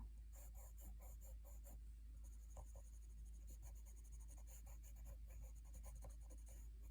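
White pencil scratching across paper during a craft coloring session, a quiet steady series of short strokes with small pauses, close and faint with no talking.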